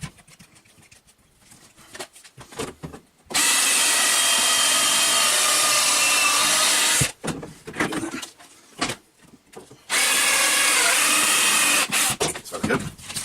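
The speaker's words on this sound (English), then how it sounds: "I will drill pilot holes because I'm being good." Power drill boring pilot holes into peg board, two loud sustained runs of about four and three seconds separated by quieter handling clatter and knocks.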